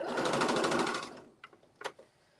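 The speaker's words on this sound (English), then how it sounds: "I'm just going to backstitch a little bit." A sewing machine runs in a quick backstitching burst, a fast rhythmic mechanical whir for about a second, then stops, followed by a few light clicks and taps.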